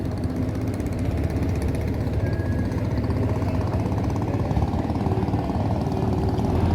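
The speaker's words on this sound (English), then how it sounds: "they have motorboat taxis going through here" A motorboat engine drones steadily and close by for the whole stretch on a Cambodian waterway, a constant throbbing engine hum without a pause.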